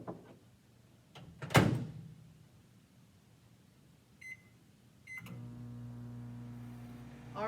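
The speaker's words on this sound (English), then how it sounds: "now we're going to put it in the microwave" A microwave oven runs with a steady hum while heating pizza dough in a mug, with a door clunk and a short beep before it starts. No one speaks over it.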